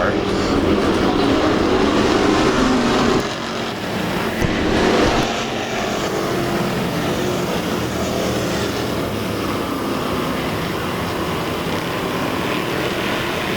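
Race cars at Lake Ozark Speedway, a dirt oval, during a heat race: loud, continuous engine roar from the pack passing through the turns, with a brief dip around three seconds before the sustained drone returns.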